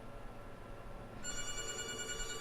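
A telephone bell rings in on an open call-in line during a televised bingo broadcast, the electronic ring starting halfway through and holding steady and fairly loud over a faint room hum.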